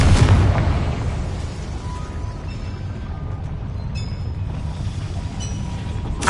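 A Confringo blasting spell explodes in Hogwarts Legacy, opening with a loud, close boom that trails off into a long rumbling roar.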